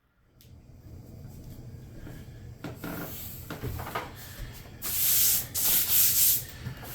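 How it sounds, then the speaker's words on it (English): Hand sanding along the rough jigsaw-cut edges of a template for a leather tripod camp stool, a steady scratchy rubbing that grows louder and harsher in strong strokes toward the end, heard alone without talk. "I'm going to sand the rough edges."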